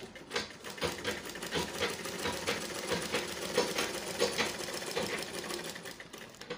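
Sewing machine stitching a pocket onto ankara fabric joggers, a close, steady rapid mechanical whir and clatter running continuously throughout without talk.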